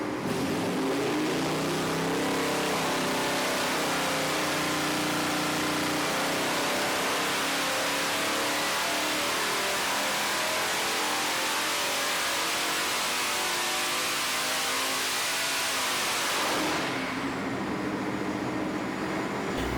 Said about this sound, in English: let's take a look and see what happened when we installed the TorqStorm supercharger